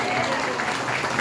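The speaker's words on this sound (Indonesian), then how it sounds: "Tepuk tangan dulu buat Tuhan." A church congregation at an anniversary thanksgiving service claps together, a brief burst of steady applause with a murmur of voices mixed in.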